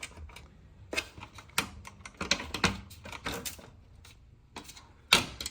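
Plastic fasteners and radiator retainers are pried loose on a Mercedes AMG with an M113K engine, giving scattered sharp clicks and snaps at close range in irregular bursts, one louder pop near the end.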